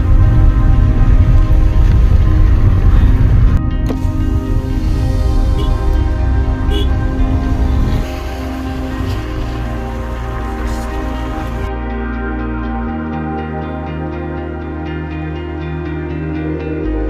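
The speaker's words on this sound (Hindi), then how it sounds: "बारिश का टेंशन था, अब स्नोफॉल हो रहा है।" Steady rain and snowfall on the Pangong-to-Sarchu mountain road in Ladakh, a loud continuous patter on surfaces that shifts in tone partway through, with a low constant hum underneath and no speech.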